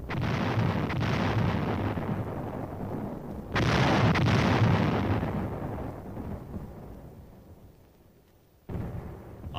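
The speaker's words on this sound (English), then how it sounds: "Observers watch strikes on the enemy hill positions." An artillery barrage strikes enemy hill positions in archival Korean War newsreel footage: two heavy rumbling blasts that roll off and fade, then a sharp third impact near the end, distant and booming.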